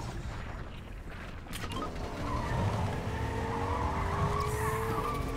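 A car in a video game drives and skids: a steady engine drone with a long rising tire squeal sliding across the surface, moderately loud and close, with a thud near the start and no talking.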